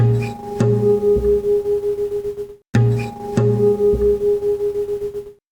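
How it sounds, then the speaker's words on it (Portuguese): Two nearly matching steady tones sound together and beat against each other, giving a regular wavering pulse that swells and fades repeatedly; the pair plays twice, each run lasting about two and a half seconds, with a brief silence between. "O resultado disso é uma coisa que a gente chama de pulsação."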